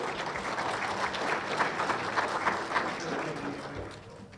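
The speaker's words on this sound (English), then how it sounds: "Give them a big round of applause" An audience at a Michigan auctioneers and ringmen championship applauds, a dense steady patter of many hands clapping that tapers off toward the end.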